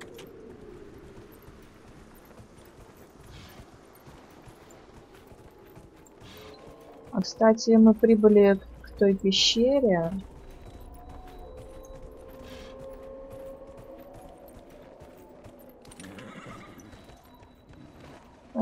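In the fantasy video game Dragon Age: Inquisition, a horse whinnies loudly in a short burst, with hooves clip-clopping beneath it, set against a quiet background and someone speaking before and after.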